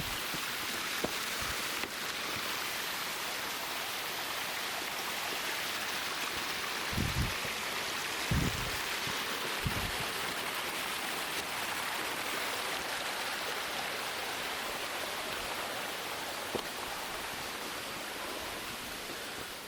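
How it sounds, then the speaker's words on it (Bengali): Water streams down over slippery rocks in a rain-soaked forest in Meghalaya, a steady, close rushing hiss with a few soft low thumps partway through. "কোথাও আবার উপর থেকে জল নেমে আসছে।"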